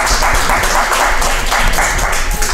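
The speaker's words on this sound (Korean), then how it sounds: "큰 박수로 맞아주시기 바랍니다" An audience at a small-business workshop gives loud, dense applause to welcome a speaker. The clapping fills the room evenly and continues without a break, and no one speaks over it.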